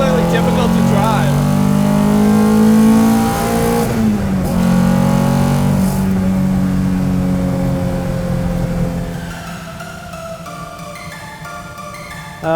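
The engine of a 1969 Datsun 510 track car drones loudly up close, its pitch rising and then easing off as the revs change. A voice talks over the engine throughout.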